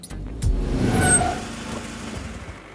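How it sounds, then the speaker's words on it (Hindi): A tractor engine rumbles close by, swelling to a louder low growl before easing into a steadier idle-like drone. "ए ट्रैक्टर रोको, रोको, रुक जाओ।"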